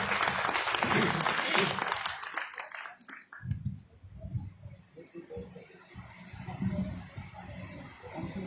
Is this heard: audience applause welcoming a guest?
yes